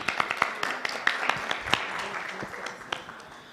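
A small audience at a university finance research competition final claps for a presenting team, with distinct individual claps standing out in an uneven patter that thins and fades over a few seconds.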